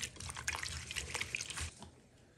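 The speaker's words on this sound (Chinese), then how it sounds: "多洗两遍把荷叶清洗干净" Dried lotus leaves are rinsed in water, giving soft splashes, trickles and drips that slosh irregularly for a couple of seconds before fading, quiet and close with no talking.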